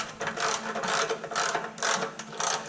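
A hand ratchet cranks down an exhaust clamp holding a resonator and muffler on a 1955 Chevrolet Nomad, giving close, loud bursts of rapid clicking in several short strokes with brief pauses between them, with no talking.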